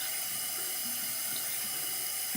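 Tap water runs steadily into a sink as a wig is wet for co-washing, a close continuous hiss and splash with slight changes as the hair passes under the stream.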